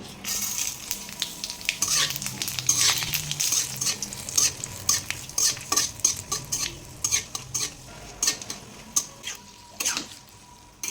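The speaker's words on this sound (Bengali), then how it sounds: "আমার ফার্স্ট মিশালি সবজিটা এখন ফার্স্ট ফোড়ন দিয়ে আমি ফোড়ন দেব।" Mixed vegetables are tossed and stirred in hot oil with tempering spices, giving a steady sizzle under repeated scraping strokes and clinks of a spoon against the pan, close and continuous for several seconds.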